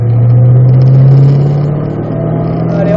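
A Ford Mustang Shelby accelerates hard around a race circuit, its engine holding a loud, steady low roar that rises slightly in pitch near the microphone throughout.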